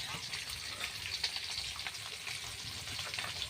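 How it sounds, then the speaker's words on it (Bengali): Koi fish fry in hot oil, a steady close sizzle and bubbling crackle filling the whole stretch, with a voice talking over it. "পিঠ ভেজে মাছগুলো আমি অপর পিঠ উল্টিয়ে দিয়েছি"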